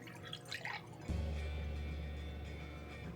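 Whole milk, one and a half cups, poured into a bowl: faint clinks and handling first, then a sudden steady pour that starts loud and gradually softens as the liquid keeps streaming in, no talking.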